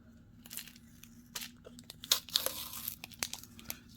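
A bubble gum wrapper being peeled open, close crinkly tearing and crackling in several short bursts spread over a few seconds, with no voice.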